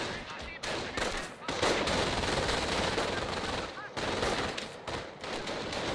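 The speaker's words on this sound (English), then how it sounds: "MG42 getting set up to push these guys back" An MG42 machine gun firing in the World War II strategy game Company of Heroes, long rapid sustained bursts broken by brief pauses, loud and dense over battle noise.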